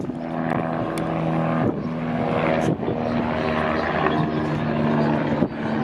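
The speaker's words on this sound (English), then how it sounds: "That would be our ambulance coming this direction." An air ambulance helicopter at a motorcycle road race comes closer with a steady throbbing rotor and engine drone, fairly loud and continuous, with a breezy outdoor backdrop.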